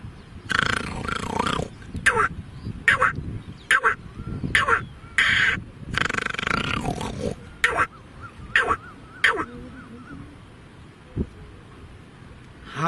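Someone uses their voice to imitate a jungle crow, producing a run of about ten hoarse, throaty caws in uneven bursts, some grouped closely and others spaced apart, heard up close before the calls trail off into quiet.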